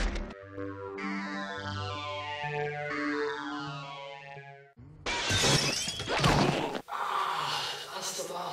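Glass shatters loudly and close after a stretch of tonal music, a bright crashing burst followed by scattered tinkling debris, with groaning vocal sounds nearby.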